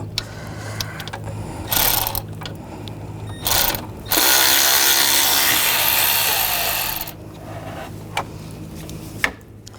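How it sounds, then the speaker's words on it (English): Ratchet with a T30 socket backing out bracket bolts on a 2009-2017 Volkswagen Tiguan engine: short clicking bursts, then a long steady ratcheting run of a few seconds, close and loud. "Use a T30 socket. Take that bolt out, and take this bolt out."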